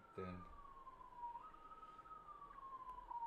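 A police siren wails outside, one long gliding tone that falls and rises again, faint and distant, with a brief burst of voice near the start.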